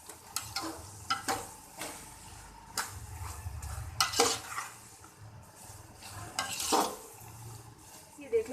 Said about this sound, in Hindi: तकरीबन 7 से 8 मिनट के लिए मैं इसको भूनूंगी।